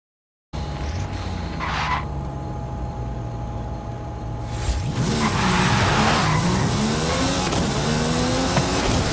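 Mercedes-AMG One supercar in a racing video game arena, its engine droning steadily before the tires break into skidding and squealing as the car accelerates, loud and continuous with no talk.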